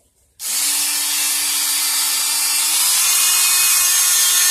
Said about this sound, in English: that's the song we like from the Dremel.